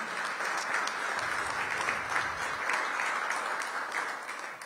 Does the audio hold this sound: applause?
yes